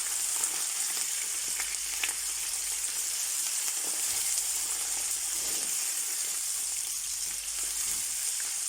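Chicken liver sizzles loudly and steadily in a hot pan while being stirred, a dense continuous crackle with occasional faint scrapes, close and unbroken throughout.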